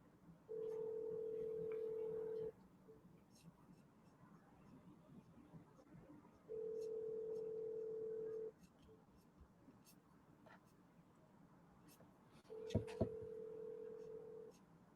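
A telephone call in progress, with steady tones sounding in three separated bursts of about two seconds each, the last overlapped by a sharp click, all over faint background hiss.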